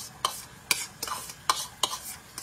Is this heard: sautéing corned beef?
yes